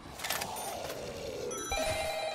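A telephone rings in Black Ops 3 Zombies with a rapid electronic trill, faint and steady, over low game ambience, and a sharper tone joins near the end.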